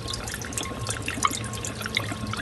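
Water in a DIY deep-water-culture hydroponics setup bubbles and trickles continuously, driven by an air pump through an air line and net pot, with soft gurgles and drips over a low steady hum.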